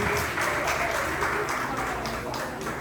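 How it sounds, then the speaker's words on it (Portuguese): A church congregation at a Portuguese-language worship service bursts into dense, steady applause, many hands clapping at once in a loud, continuous wash that holds its level to the end. "Aplauda o Senhor fortemente."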